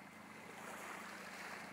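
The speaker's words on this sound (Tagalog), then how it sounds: "Kalma talaga ang dagat." Calm sea at Laylay Port in Boac washes steadily, a broad, continuous surf hiss with wind buffeting the microphone and no voices.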